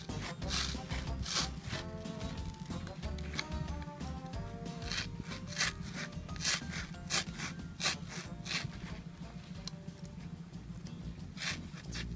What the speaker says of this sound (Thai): เราจะมาใช้คัตเตอร์นะคะในการ ตัดก่อนนะ ก็เริ่มจากเจาะลงไปนะคะ